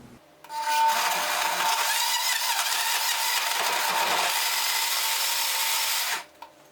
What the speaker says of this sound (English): Then we're just going to put the top on and blend it up.